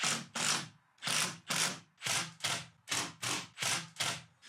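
A screwdriver drives screws into wood while interior boards are fitted in a garden room, giving about nine short whirring bursts in a steady stop-start rhythm, close and fairly loud.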